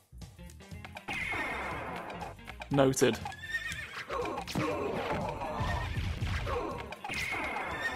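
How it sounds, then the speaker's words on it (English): A horse whinnies and gallops in Castlevania: Symphony of the Night, a loud neigh rising over steady clattering hoofbeats, game music and crashing effects, with a short spoken word. "we've got half a horse running around"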